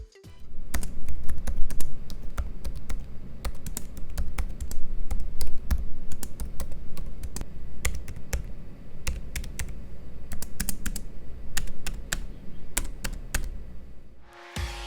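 Fingers type steadily on the ASUS Zenbook A14 laptop keyboard, soft membrane keys giving a dense run of quiet, short-travel clicks at close range for about fourteen seconds.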